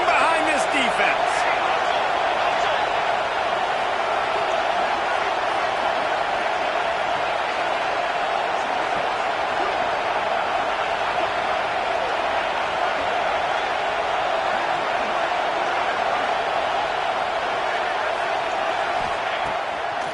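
A football stadium crowd at a CFL game roars steadily behind the defense on a red-zone third down, a dense, continuous wall of cheering and whooping that holds at full level throughout, with a commentator talking over it.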